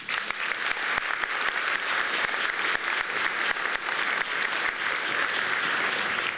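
Sustained, dense applause from an audience welcoming Saskatchewan Mayor Charlie Clark to the 2018 State of the City address, steady and loud throughout with no voices over it.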